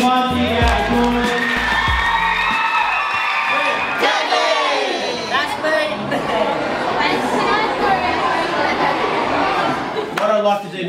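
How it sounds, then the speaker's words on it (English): An audience cheers, whoops and claps for students on stage, a loud crowd roar with shouts and chatter that carries on through the whole stretch. "Can we give them one big round of applause?"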